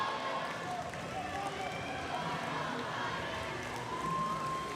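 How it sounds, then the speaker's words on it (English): A hyped-up crowd roars in a dense, steady wash of noise at a robotics championship match, with an announcer's voice running over it and a brief whistle-like tone near the end. "I can barely hear myself because the crowd is so hyped up."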